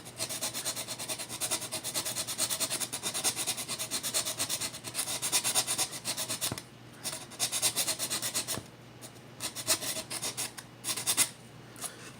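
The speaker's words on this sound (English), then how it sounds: "And you can see how easy it is to sand in if you stay in one place." Wood is sanded by hand at the sound hole of a handmade Native American flute, giving a close, steady rasping stroke after stroke with a few brief pauses between passes.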